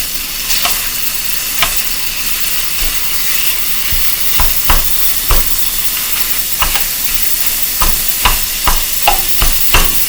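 Steady sizzling hiss of food frying in an electric skillet while Taco Bell Chilito copycat filling is cooked, broken by repeated sharp scraping taps of a utensil mashing and spreading it, close and loud, with no talking.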